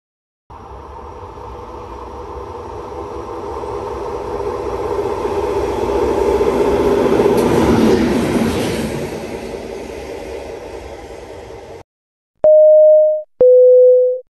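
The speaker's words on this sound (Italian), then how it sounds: "Treno in transito al binario 1" A train passes through Anzola Emilia station on platform 1, its roar swelling to a loud, close peak midway and then easing off, followed by two loud, clean chime tones from the station.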